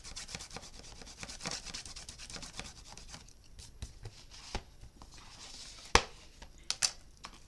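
Paper in an art memory book is burnished with soft, quiet rubbing strokes in an uneven rhythm, with a few sharper taps and scrapes toward the end.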